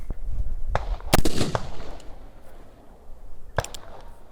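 A black powder gun is fired at a distant target outdoors. A sharp, loud report with a brief echoing tail comes first, then a second, weaker crack follows a couple of seconds later over faint background noise.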